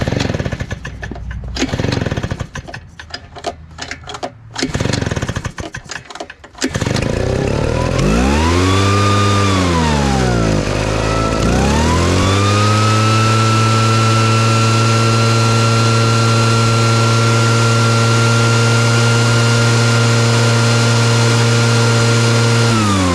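A cold small engine is pull-started with a few rough rasping yanks, then catches, revs up, dips, and settles into a loud, steady running drone close by.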